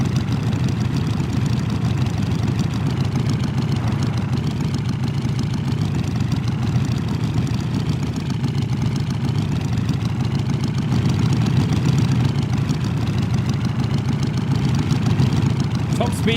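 A motorbike engine in the video game DayZ runs steadily for the whole stretch, a loud continuous drone held near top speed, with people talking over it now and then.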